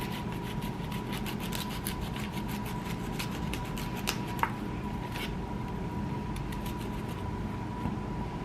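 Knife chopping broccoli on a cutting board while a salmon and vegetable bowl is prepared, a steady run of faint, close taps over a constant background hum, with one sharper knock partway through.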